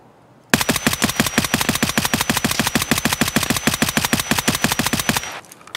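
Rapid-fire M4 rifle shots in Escape From Tarkov, fired in single-shot mode at a wall, a steady loud train of about forty evenly spaced cracks lasting roughly five seconds before stopping abruptly.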